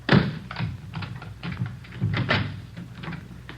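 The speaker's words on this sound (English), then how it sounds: "Let me get the door open." Door-opening sound effect from a 1950 Dragnet radio drama: close fumbling with a lock and latch gives a series of soft taps, clicks and thumps at an irregular pace, with no speech.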